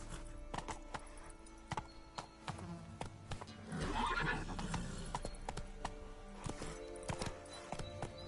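The horse Roach gallops in The Witcher video game, with rhythmic hoof clip-clops throughout and a whinny or snort partway through, fairly quiet with ambient game sound underneath.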